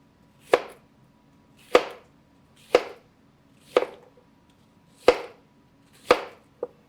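An onion being diced with a chopper gives seven sharp, close chops at a steady pace of about one per second over a quiet background, with the last one lighter and no talk.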